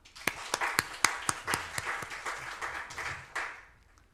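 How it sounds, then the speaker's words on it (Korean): A church congregation at a Sunday afternoon service claps together, a short burst of sharp individual claps merging into a quick round of applause that fades out after about four seconds, moderately near and alone. "고생 많이 하는데 박수 한번 해주세요."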